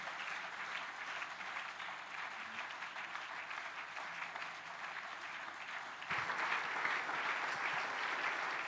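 A church congregation claps in a steady ovation at a service, a dense, even roar of hands heard from within the crowd, growing louder for the final seconds.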